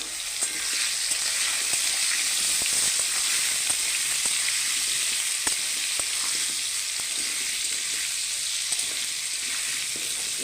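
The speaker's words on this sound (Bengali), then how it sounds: "এবার আমি ইঁচড়গুলো একটু ভেজে নেব" Young jackfruit pieces frying in hot oil in a wok, a loud, steady, bright sizzle with occasional small pops and stirring clicks throughout.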